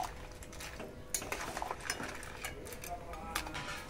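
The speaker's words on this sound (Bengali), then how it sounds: "একটু ভালো করে নেড়ে দেবো" A spoon stirs crab and mixed vegetable curry in a pot with water and fried lentil dumplings, giving quiet, scattered metallic clinks and scrapes against the pot over a soft liquid background.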